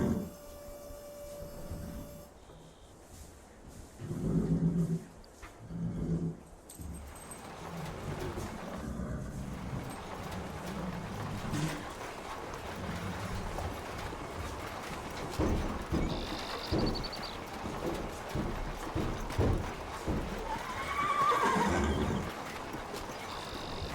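Horses on a 1930s-style ranch whinny and neigh in several bursts while hooves clip-clop in an uneven rhythm, fairly quiet and at a moderate distance, with some faint mechanical clatter.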